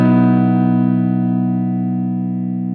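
A single clean electric guitar chord rings out through an AC15 amp model with a Vintage 30 speaker, sustaining smoothly and slowly fading, with no playing or talking over it.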